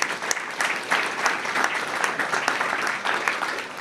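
A conference audience at a talk on hybrid warfare claps continuously, with crisp individual hand claps popping out of an even wash of applause from start to finish.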